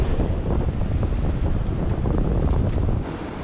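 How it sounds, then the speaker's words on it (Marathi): Rough sea with waves crashing and strong wind buffeting the microphone aboard a small fishing boat off the Konkan coast, a loud continuous roar that eases slightly near the end. "ही बघा लाट केवढी आली."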